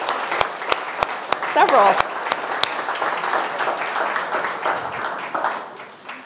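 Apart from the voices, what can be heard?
audience applause for award winners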